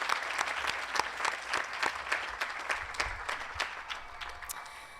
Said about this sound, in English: So we can honorary clap for her.